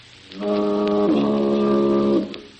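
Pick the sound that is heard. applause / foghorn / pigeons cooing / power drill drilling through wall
foghorn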